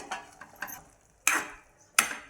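A lid comes off a cooking pan of cauliflower curry on a low gas flame, giving a few soft scrapes and then two sharp, bright clinks close by, with no talking.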